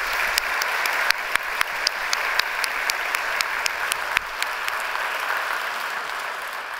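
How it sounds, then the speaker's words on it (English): At a Melbourne speaking-tour event on greenwashing, an audience gives a quick round of applause, steady, even clapping that fills the room throughout with a few sharper claps standing out. "how about a quick round of applause for..."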